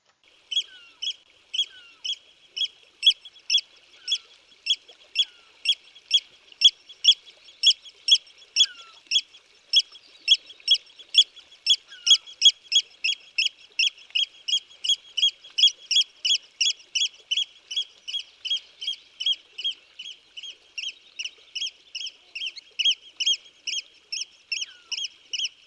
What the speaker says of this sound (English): The shelder's pipe and call is a familiar sound in spring.